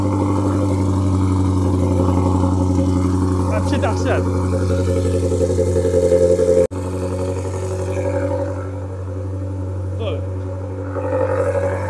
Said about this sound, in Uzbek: mana bu Ajdarxonning 1000 ot kuchini ovozini sizlar bilan eshitamiz